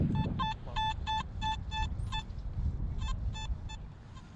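A Nokta Makro Simplex metal detector sounds a series of short, evenly pulsed target beeps in repeated bursts, over steady low outdoor rumble from digging in a park, with no talking.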